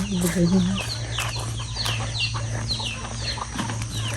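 Hens cluck in short bursts close by, over a steady low hum, with some voices talking now and then.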